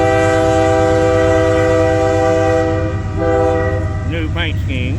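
Freight train with a distributed power unit passing a grade crossing, its loud multi-tone air horn blaring steadily, then dropping and continuing over the rumble of rolling cars, with a voice briefly heard near the end.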